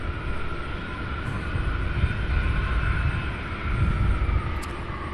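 An MD-11 jet taxiing at Louisville's SDF airport gives a loud, steady, low engine rumble and roar throughout, with no voices.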